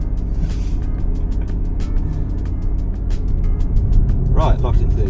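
A tuned Jaguar car drives in third gear, its steady engine drone loud and close throughout, with ticking and wind noise on top, a brief rising tone near the end, and a voice speaking over it.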